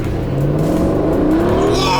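Aston Martin Vantage engine accelerating in track mode, a loud steady roar with rising pitch lasting throughout, with people talking over it.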